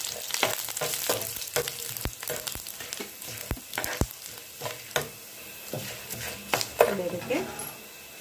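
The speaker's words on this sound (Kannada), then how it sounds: "ಫ್ರೈ ಮಾಡ್ಕೊಳ್ಳೋಣ" Curry leaves, chana dal and urad dal frying in a pan, with a crackling sizzle and frequent sharp spatters and utensil clicks close by, and a voice speaking at times over the frying.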